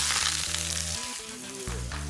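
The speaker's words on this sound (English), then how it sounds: "I'm going to saute them, which is just the chef's term for shallow frying on a high heat" Sweet and sour peppers with red onion sizzle steadily in olive oil in a pan over high heat, a continuous hiss with a tonal music bed running underneath.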